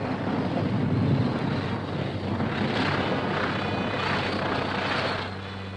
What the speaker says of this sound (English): Our first plane lands on the Admiralty's.